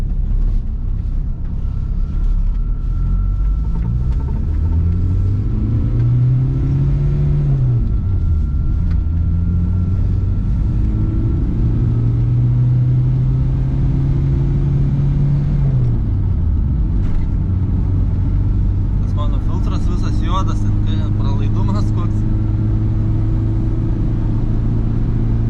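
A Volkswagen T4 van picks up speed on a highway, its engine droning loudly with rising and falling pitch through gear changes over a constant road roar.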